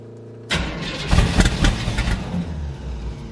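Pro Street Pontiac Starfire engine cranking and catching after carburetor priming, a loud broadband roar that starts abruptly and holds steady, with a few sharp revving surges near the start.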